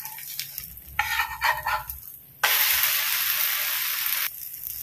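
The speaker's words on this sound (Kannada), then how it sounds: "ಎರಡು ಸೈಡ್ ಕೂಡ ಒಳ್ಳೆ ಫ್ರೈ ಮಾಡಿದ್ರೆ ಆಯಿತು" Banana batter snack frying in a pan: a loud, steady sizzle starts abruptly midway and holds for about two seconds, after some earlier clattering and stirring sounds, then cuts back down.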